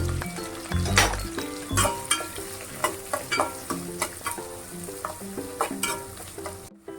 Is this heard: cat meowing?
no